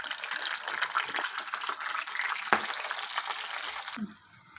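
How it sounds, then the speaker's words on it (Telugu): Cleaned broad beans (chikkudu kaya) frying in hot groundnut oil, a steady close wet sizzle and bubbling with one sharp crackle midway, then abruptly dropping to near silence at the end. "ఇలా నూనె కాగిన తర్వాత మనం శుభ్రంగా క్లీన్ చేసి పెట్టుకున్న చిక్కుడుకాయల్ని ఇందులో వేసుకొని వేయించుకోవాలి."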